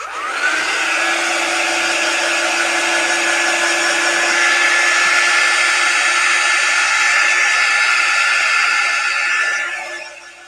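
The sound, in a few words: dryer drying a transfer on a candle container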